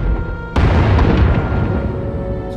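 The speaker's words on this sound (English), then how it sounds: "Sounds like the bombing's getting closer." Bombing explosion in the Star Wars: The Old Republic game during a smuggler encounter: a sudden deep, rumbling boom breaks a near-silent background, then a heavy low roar slowly decays, loud and close.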